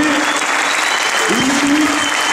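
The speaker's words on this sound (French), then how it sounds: "un tonnerre d'applaudissements pour le SCO d'Angers" Loud, sustained applause from an awards ceremony crowd cheering a football club after a youth tournament, steady dense clapping throughout with a brief tonal voice or whistle partway through.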